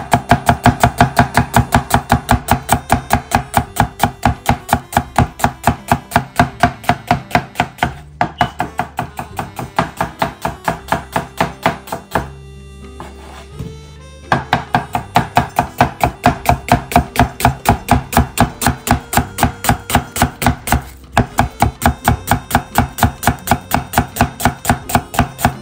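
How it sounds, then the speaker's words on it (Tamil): Rapid, even knife strokes on a cutting board as onion is sliced thin for a red cabbage salad, loud and close, pausing briefly midway and near the end before the quick rhythm resumes. "நான் இப்படி கொஞ்சம் ஃபாஸ்ட்டாக வெட்டுறது"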